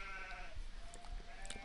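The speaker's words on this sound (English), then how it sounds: "damn sheep." Sheep bleat nearby in wavering, drawn-out calls that rise over a constant low background hum, with no voices in between.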